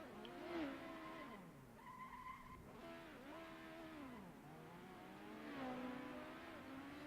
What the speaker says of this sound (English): Here he went off there a little bit, and it just kicked his car around right there by the front stretch